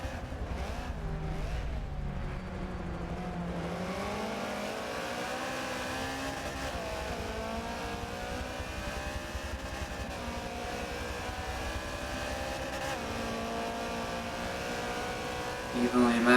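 Subaru BRZ race cars lapping Suzuka in a racing game, engines droning steadily with shifting pitch as they run close together, a continuous loud roar throughout with a brief bump near the end.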